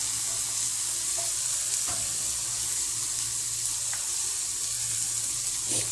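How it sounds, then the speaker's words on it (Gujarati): Onions fry in hot oil in a pan for Manchurian, a steady loud sizzle throughout with faint scraping as they are stirred. "આપણે આ રીતે ડુંગળીને હલાવતા રહેવાનું."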